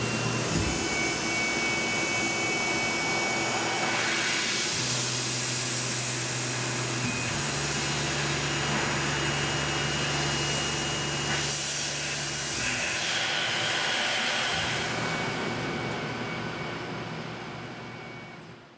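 A CNC machine cuts a chamfer with a backside chamfer tool, giving a steady loud whirring, hissing machining noise with shifting hum that fades out at the end, with no talk.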